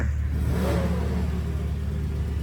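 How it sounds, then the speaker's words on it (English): A 1500bhp BMW M3 Competition running on E85 fires up, with a steady mid-pitched engine drone and a slight swell early on, loud and close with no talking. "It's got some E in the tank, so you gotta give it a little start up."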